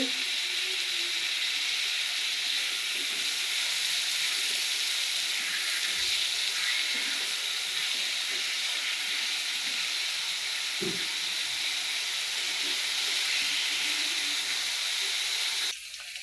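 Potatoes fry in a pan with a loud, continuous close-up hiss and sizzle that holds steady throughout, then changes abruptly at the very end.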